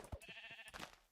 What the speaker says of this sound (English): There's lots of sheep around, that's good.